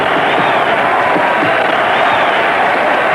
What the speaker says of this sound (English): The crowd goes wild as George tries to press his advantage.